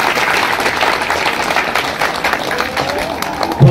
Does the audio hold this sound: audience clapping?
yes